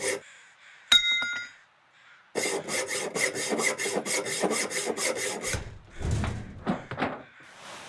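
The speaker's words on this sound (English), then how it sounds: "We're gonna break some stuff down and repair that hacksaw." Breaking down items and repairing a hacksaw in The Long Dark: a quick metallic clink, then a long run of rhythmic rasping strokes like sawing or filing, ending in a few heavier thumps.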